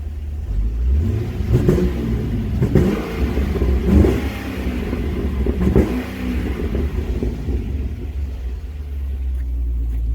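A 2013 Holden VF SS-V 6.0-litre V8 rumbles loudly through aftermarket rapid exhaust pipes, with throaty revs rising and falling in the first half before settling to a deep, steady idle.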